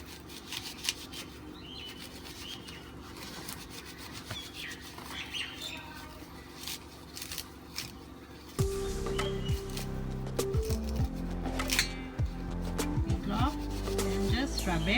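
Dry coconut husk rubbed and scraped by hand to make coco peat, a scratchy fibrous rustling close up, quieter at first and then louder and denser, with a low hum joining partway through.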